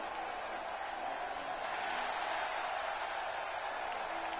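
A jam-packed wrestling arena crowd in Chicago cheers and applauds, a dense, steady roar of many voices that holds at an even level for the whole span with no pauses.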